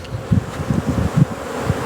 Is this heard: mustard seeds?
no